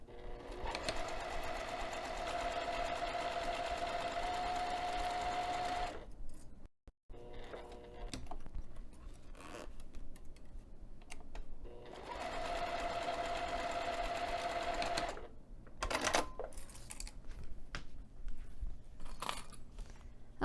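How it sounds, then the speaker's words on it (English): A sewing machine top stitching the lower edge of a fabric binding piece on a zipper pocket runs in two long steady whirring bursts, close and clear, separated by quieter handling sounds of fabric and small clicks. "I'm going to take this over to the sewing machine, and I'm going to top stitch this lower edge of this binding piece"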